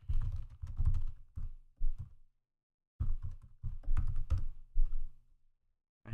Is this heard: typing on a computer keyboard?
yes